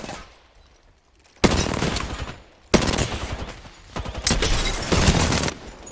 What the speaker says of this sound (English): Alright, he's shooting at me.